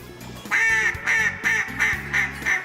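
Ducks quack during a late-season waterfowl hunt over decoys, with about six loud, close calls coming in a steady rhythm.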